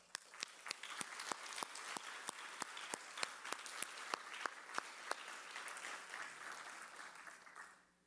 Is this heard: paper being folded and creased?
no